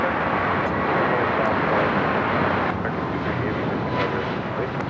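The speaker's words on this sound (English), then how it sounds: "This is American Airlines 2656 taking off to Los Cabos on the A321neo" American Airlines A321neo jet taking off from LAX: a steady, loud roar of engine thrust and broadband rumble holding throughout, with wind buffeting and faint background talk.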